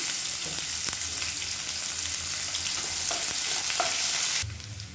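Chopped onion and garlic sizzle steadily in a hot pan, a continuous close frying hiss with occasional stirring clinks, before the sizzle drops away near the end.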